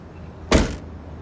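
Rear seat of a 2019 Nissan Kicks folded flat after its release knob is pulled, giving one short, close thud-like clunk of about a quarter second in an otherwise quiet cabin.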